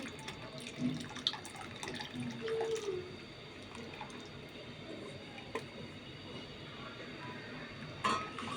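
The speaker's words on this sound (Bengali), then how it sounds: "আস্তে আস্তে এইভাবে নাড়াচাড়া দিতে হবে" Bogura-style khisha is being made: pulao rice flour goes into a pot of milk and is stirred slowly with a ladle. Quiet wet sloshing and squishing come with light scrapes and clinks against the pot.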